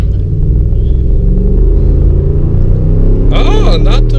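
A Ford truck with a 5.0 engine accelerates while towing a trailer, a loud, steady low engine rumble heard from inside the cab throughout, with a brief whine rising near the end.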